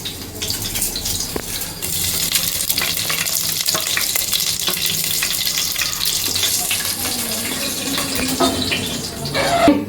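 Whole spices, including cloves, sputter and crackle in hot oil at the start of a mushroom and vegetable biryani: a steady, fairly loud sizzle lasting throughout, with scattered sharper pops and no voices.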